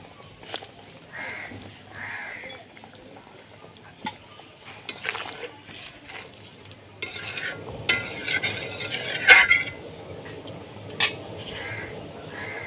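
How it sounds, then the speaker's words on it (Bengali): Potatoes tipped into boiling curry broth for Bengali dhokar dalna and then stirred, with soft splashes, bubbling and scraping in the pot under a speaking voice, growing busier and louder in the second half. "ঝোল ফুটে গেছে, আলু দিয়ে দেব।"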